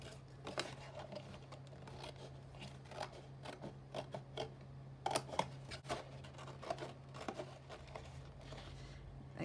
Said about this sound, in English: the easiest way to do this will be with scissors. I'm just going to cut down to that line.